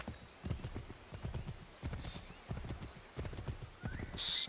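A horse's hooves clip-clop steadily along a road in Assassin's Creed III, a quick repeating trot of soft clattering beats, with a short high whinny near the end.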